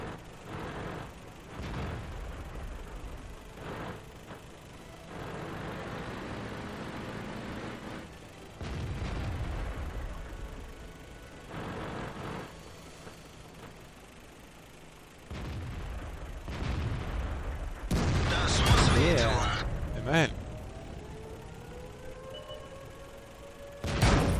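Tank cannon shots and shell explosions in the World of Tanks video game, a series of heavy booms spread across the stretch with rumbling tails and quieter engine noise between, the loudest burst coming near the end.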